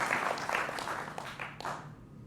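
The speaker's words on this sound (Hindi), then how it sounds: "जोरदार तालियों के साथ स्वागत है।" A studio audience on a televised political debate show gives a short, fairly faint burst of clapping to welcome the panel guests, fading out after about two seconds.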